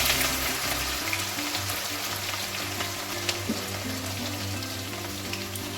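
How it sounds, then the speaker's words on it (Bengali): Chopped ginger and garlic frying in hot oil as the first step of egg fried rice, a steady close, dense sizzle with crackling spatter and faint stirring throughout, no voices. "এবারে ভাজবো হচ্ছে এগ ফ্রাইড রাইসটা, তো প্রথমেই দিচ্ছি হচ্ছে আদা রসুনের কুচি"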